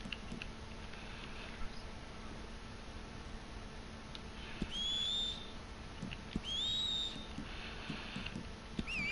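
Two brief rising horse-whistle tones sound a couple of seconds apart in the video game Red Dead Online, over a quiet, steady background hum, with no voices.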